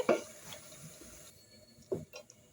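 Water from boiled broccoli being drained in a kitchen: a soft pour and splash at the start, a quieter trickle, then another brief splash, all faint and close.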